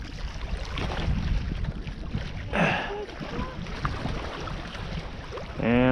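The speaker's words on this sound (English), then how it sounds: "the wind is so freaking strong today that it keeps pushing our poles" Strong wind at a lake during trout fishing buffets the microphone with continuous low rumbling gusts, while people talk throughout and the water laps nearby.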